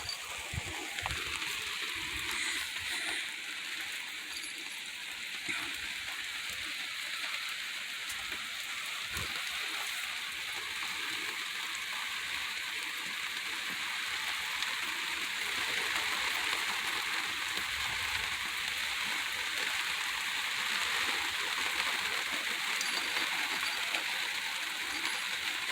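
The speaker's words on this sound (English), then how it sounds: "I know Pennsylvania didn't need this rain, but Texas also needs this kind of rain too." Steady, heavy rain pours outdoors, a dense unbroken hiss of drops on surfaces that holds at the same loudness from start to finish, with no voices.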